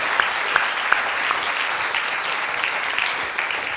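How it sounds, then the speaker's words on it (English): An audience at a talk gives a round of applause, dense steady clapping filling the room throughout with a few sharper claps standing out. "A round of applause."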